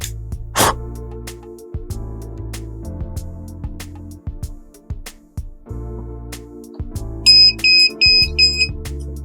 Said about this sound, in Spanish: la alarma de gas, ahí la vemos, funcionando, se supone, ya está, ya no parpadea, se supone que detecta gas.